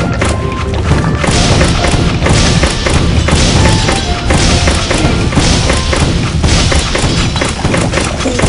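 Mortar bombs exploding in the game Incursion, a loud, unbroken barrage of booming thuds and crashes that rumbles steadily throughout.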